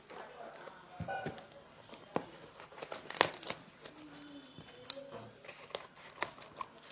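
A parcel of ISKCON coffee is unboxed, with close, quiet crinkling and tearing of the packaging, broken by sharp rustles and a few light taps.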